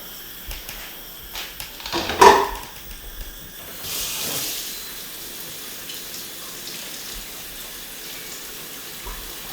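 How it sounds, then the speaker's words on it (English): Cold tap water runs over a fully pressurized pressure cooker in a kitchen, a soft hiss of flowing water after a brief clatter of handling, faint and close. "The simplest way to do it without overcooking your food is to place it under cold running water."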